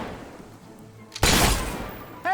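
A gunshot cracks loudly at a shooting gallery in the video game Fable 3, followed by a sustained burst of noise and a brief tonal clatter at the end.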